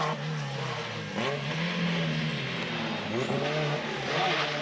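A car engine revs and surges in repeated rising sweeps, loud and close, with no talking.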